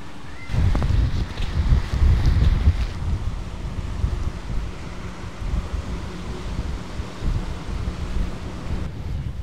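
Strong wind buffets the microphone at a lakeside campsite, a loud rushing roar that gusts hardest early on and then settles into a steady blustery rumble.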